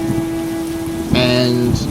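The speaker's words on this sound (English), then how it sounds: "it's raining very, very heavily, and there's storms are happening" Heavy rain in a storm in the video game 7DSystem makes a steady, dense hiss throughout, with a tonal hum beneath it and a brief brighter chime-like tone near the end.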